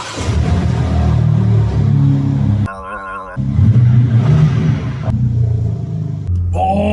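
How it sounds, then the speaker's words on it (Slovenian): A BMW M4 engine rumbles loud and close, with a steady low drone, a short pause and changes in revs as it runs. "Ampak danes o M4 Ne bomo govorili, lahko ga pa malo poslušamo."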